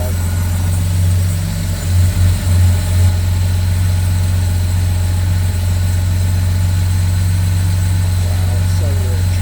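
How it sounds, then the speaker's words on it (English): A car engine idles loudly and steadily up close while its fuel mixture runs rich during adjustment, rising slightly in one short bump, with a person talking over the drone. "You hear the engine rev up because it's enriching."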